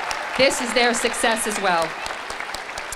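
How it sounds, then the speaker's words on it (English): Audience applause at a Head Start 2022 graduation ceremony, honoring teaching staff; a spread of clapping runs through the clip under a man's speech that dominates the first half, then continues more thinly. "So I want us to give a round of applause to the teaching staff"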